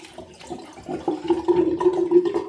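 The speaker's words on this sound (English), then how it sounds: "Right, rinse the face. Cold water." Cold water runs steadily from a bathroom tap into a sink for rinsing the face after a shave, a close, continuous rushing gush that grows slightly louder and fuller as it goes on, with no talking.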